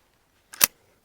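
A single sharp gunshot aimed at a playing card at a shooting range cracks once, close and loud, against near silence.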